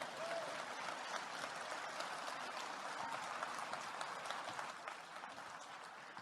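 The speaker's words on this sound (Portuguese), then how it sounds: "Um aplauso" An audience applauds steadily, a thick, continuous patter of many hands at fairly even volume that tapers slightly near the end, with no speech over it.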